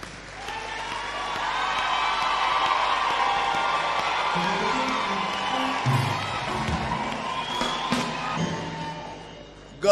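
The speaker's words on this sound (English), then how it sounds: "Can we clap for Ramaphosa?" A crowd at a prophecy gathering claps and cheers in a long, continuous wash of applause, with whoops and shouts rising over it and fading toward the end.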